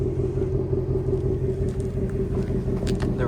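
Ford S650 Mustang engine rumbling steadily from behind the car, a low, even idle-like drone, moderately loud and with no talk.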